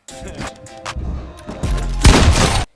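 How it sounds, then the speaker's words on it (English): A pump shotgun blast in Fortnite, one loud booming shot near the end of a short stretch of thumping game audio, with earlier softer hits and faint speech-like sound behind. "Okay, so the pump shot is right here."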